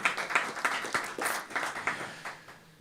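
Scattered applause for a speaker at a rabbi's speech event, a modest crowd clapping in loose rhythmic bursts that taper off toward the end.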